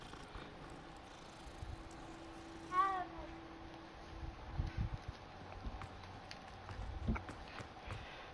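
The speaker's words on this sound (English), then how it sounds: "It's a kitty cat, Zell!" In the video game Hogwarts Legacy, a cat gives a single short meow, faint under background game ambience and footsteps.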